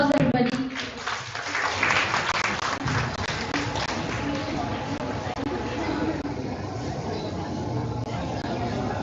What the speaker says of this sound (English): Please give a big round of applause, everybody.